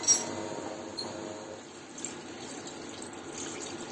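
Water is poured into a pressure cooker holding beef curry pieces with turmeric powder and salt, giving a faint, steady watery rush that lasts a few seconds with no voices.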